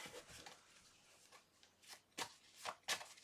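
Tarot cards are shuffled by hand, soft papery riffles and slides building into a few sharper flicks and taps toward the end, quiet and close with no talking.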